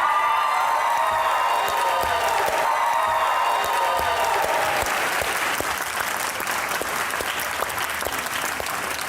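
Studio audience applauding as guests Mikaal Zulfiqar and Amna Ilyas are welcomed on a talk show, dense steady clapping throughout with some cheering that swells in the second half.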